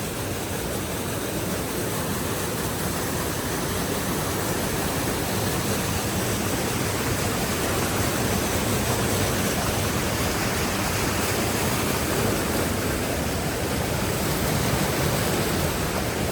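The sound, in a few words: mountain stream rushing at night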